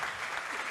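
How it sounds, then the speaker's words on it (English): Audience applauding at a space conference, a steady broadband wash of clapping from a crowd with no voices over it. "Yeah, one round of applause, please."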